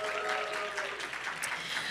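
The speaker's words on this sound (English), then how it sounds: "Can we have a round of applause for our friends from the UK?" An audience at a panel session applauds for visiting poets from the UK, a quiet, distant patter of clapping under a faint room hum and a steady tone.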